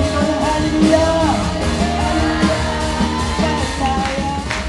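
A church congregation shouts hallelujah together, a loud, dense wash of crowd voices and music with no gaps.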